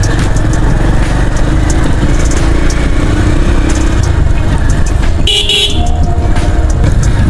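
A motorcycle rides over a rough brick and dirt road, its engine roaring loud and close the whole time, with scattered knocks and brief horn toots from passing traffic partway through.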